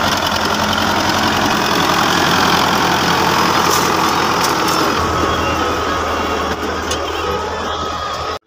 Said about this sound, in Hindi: ट्रैक्टर चल रहा है